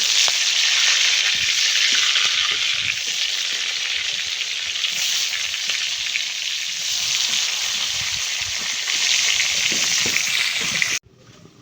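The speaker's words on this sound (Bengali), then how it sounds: "এখন হচ্ছে বেগুন ভাজবো" Eggplant fries in hot oil with a loud, continuous sizzling hiss and scattered crackles that run steadily before cutting off abruptly near the end.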